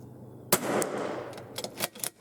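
Rifle shots fired at a target 50 yards away while testing a scope: one sharp, loud crack followed by a decaying tail, then a few fainter snaps near the end, with no talking.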